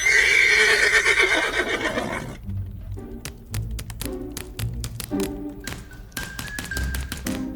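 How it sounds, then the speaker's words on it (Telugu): A horse gives a loud, drawn-out whinny, then hooves clop and tap in an irregular series of sharp knocks. "ప్రసాద్ గారు, గుర్రం మీద వెళ్తున్నారా?"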